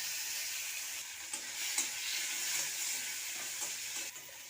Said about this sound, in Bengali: তেলটা গরম হয়ে গেছে, চিংড়ি মাছটা ভেজে নেব